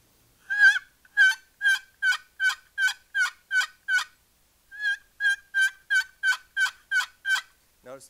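Turkey yelps played on a wooden box call, two clear runs of about ten evenly spaced, loud raspy notes each, separated by a short pause.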